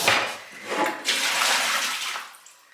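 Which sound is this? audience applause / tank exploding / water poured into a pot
water poured into a pot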